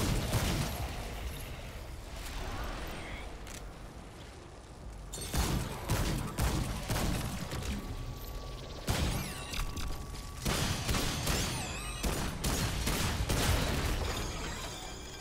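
Gunfire in the video game Remnant 2 crackles in bursts, with quieter clanks and shattering between volleys, moderately loud and mixed with game effects, no speech over it.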